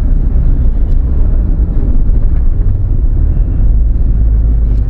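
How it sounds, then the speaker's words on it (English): A 2014 Mahindra Scorpio SUV engine drones steadily while the vehicle drives on an open road, a loud continuous low rumble with road and wind noise and no talking. "And the engine sound is also such, you will feel like, whoa, you are driving like so much powerful car."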